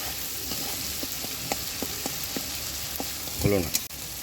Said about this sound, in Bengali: পাবদা মাছ রান্নার জন্য এই মশলাগুলো ভালো করে কষিয়ে জল ঢেলে এর মধ্যে মাছ মাছ দিয়ে দিচ্ছি